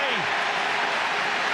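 Hurling match crowd roaring for Tipperary against Cork: a dense, sustained wash of cheering and applause, loud and continuous, with commentary over it.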